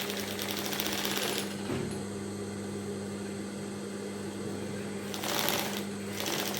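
A sewing machine stitches a fabric strap for a flared maxi dress, a steady close mechanical whir running almost the whole time, with brief pauses and slight surges in speed.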